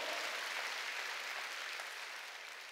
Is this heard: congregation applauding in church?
yes